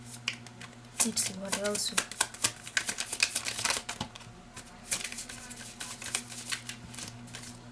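Cards rustle and flick as one is drawn from a tarot deck, a run of crisp close snaps and slides, while someone talks briefly over the handling.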